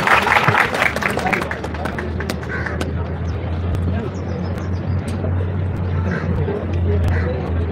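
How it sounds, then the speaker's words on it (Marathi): Audience applause at a youth training scheme event at Azad Maidan, a burst of dense clapping that is loudest at the start and then settles into a steady crowd patter with a low hum underneath. "त्यांच्यासाठी सुद्धा टाळ्या वाजूया."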